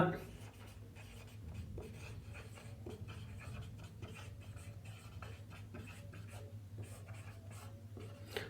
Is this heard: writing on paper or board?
yes